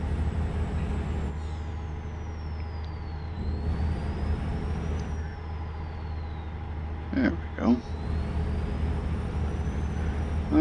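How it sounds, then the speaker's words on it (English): Diesel engine of a big rig truck idling steadily on a drive from California to Utah, with a sharp hiss of air brakes releasing around the seven-second mark; someone speaks briefly over the engine drone. "this truck actually sounds like a real rig"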